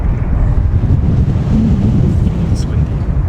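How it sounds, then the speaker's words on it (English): Strong outdoor wind buffets the microphone on a cold, freezing day, a constant low roaring rumble with gusty fluctuations throughout. "It's windy."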